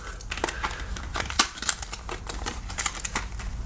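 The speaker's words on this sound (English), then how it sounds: "I think what I'm going to do is just cut into it." A blade cuts into plastic toy car packaging, giving a quick run of close, crisp clicks, snips and crinkling with no talk.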